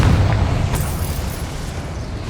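A loud, broad explosion from the Confringo spell in the video game Hogwarts Legacy, a single blast whose rumble lingers and fades over about two seconds.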